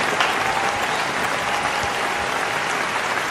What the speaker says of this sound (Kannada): ದಯವಿಟ್ಟು ಅವ್ರ ತಂದೆಯವ್ರನ್ನ ಜೋರಾದ ಚಪ್ಪಾಳೆಯಿಂದ ಬರಮಾಡ್ಕೊಳ್ಳಿ ಅಂತ ಕೇಳ್ಕೊತಾ ಇದ್ದೀನಿ